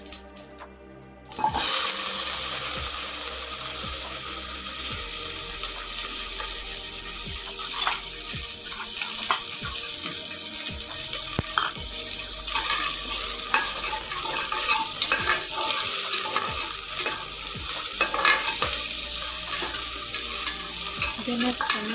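Onions tipped into a hot pan for a Karnataka-style hasikalu huli sambar, a sudden loud sizzle after a brief quiet. Steady frying and stirring follow, with scraping clicks and crackles that continue without talk.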